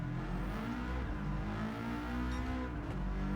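A 2014 Subaru WRX STI Type S races on the Tokyo Expressway in Gran Turismo 7. Its engine holds a loud, steady, buzzing drone at high revs with no pauses, and no one talks over it.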